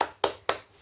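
A class of children claps together in a rhythmic spirit cheer, three sharp, evenly spaced claps ringing close by in a room, with no talking over them.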